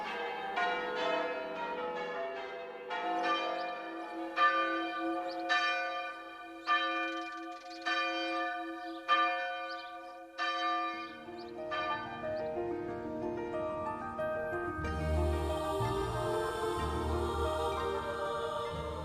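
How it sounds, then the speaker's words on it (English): Church bells peal out in celebration, a steady sequence of bright ringing strikes over about ten seconds, then continuing more densely with a clangorous wash of overlapping tones, loud and alone. "church bells rang out across the land to celebrate victory and to usher in a new age of optimism"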